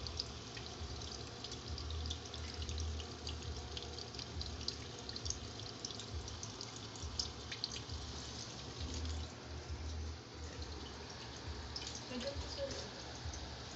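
Steady running water, a continuous rushing hiss with faint splashing throughout and no pauses.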